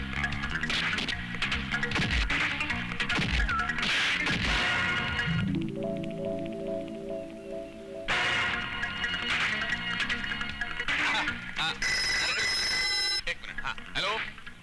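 Telephone bell ringing in a dramatic Hindi action film scene, repeated electronic trills mixed with music and crashing effects, fairly loud, with voices.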